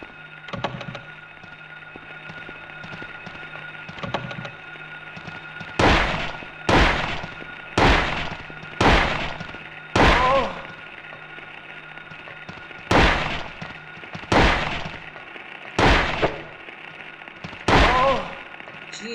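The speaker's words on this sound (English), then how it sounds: "How many bullets are you guys gonna waste?" Gunfire in the Silent Hill 1 video game comes as a run of loud, evenly spaced shots about one second apart, each with a short echoing tail, over a steady droning game hum.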